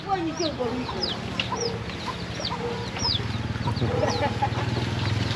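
Chickens and chicks cluck and peep at a busy market in Arunachal Pradesh. High, repeated chirps ride over continuous low clucking and background bustle.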